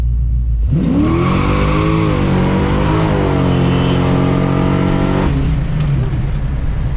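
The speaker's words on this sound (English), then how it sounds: "A little tire spin and two gears." A supercharged SS Impala accelerates hard on a street with tire spin, engine roaring loud and close as revs climb through two gears, then cutting off abruptly near the end.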